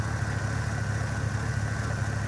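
A Chevrolet Camaro 6.2-litre V8 engine idles steadily with a deep, even low rumble and constant throb, close by, with no voices.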